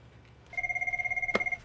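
An office desk telephone rings unanswered, starting partway in with a loud, close electronic trill that pulses rapidly and steadily, over a quiet background with no speech.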